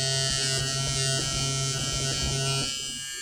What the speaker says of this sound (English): I also just wanted to show the stitch eraser and how well it works for me live and in color, high definition